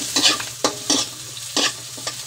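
Garlic and onion fry in a pan, a loud close sizzle with scraping stir strokes every half second or so and no one talking.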